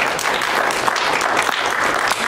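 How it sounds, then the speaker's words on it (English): An audience at a comedian panel discussion gives a dense, continuous round of applause, many hands clapping at once, loud and close for the whole stretch with no talking over it. "so I'd like to give a round of applause to all of our"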